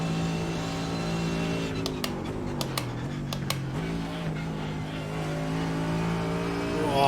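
A race car engine in iRacing or Raceroom, driven with a Simucube 2 Ultimate direct drive wheel base, rises and falls in pitch under throttle with quick gear-change ticks, steady and close throughout.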